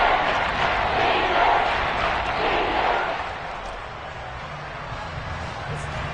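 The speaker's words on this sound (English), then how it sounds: "That just means this crowd's going to get even louder." A stadium crowd at an NFL football game in Madden NFL 23 roars as a broad, hissing wall of cheering that swells during the first three seconds, then settles to a lower, steady murmur.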